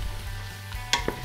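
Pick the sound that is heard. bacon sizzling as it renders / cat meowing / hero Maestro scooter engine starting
bacon sizzling as it renders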